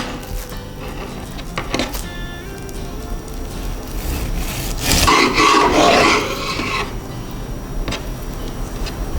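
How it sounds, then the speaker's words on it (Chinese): A serrated knife saws through nori-wrapped king oyster mushroom in a home kitchen, giving soft rasping strokes near at hand that build into a louder scraping stretch midway, then settle, with light clinks around them. "要用这种锯齿状的刀子来切，会比较漂亮"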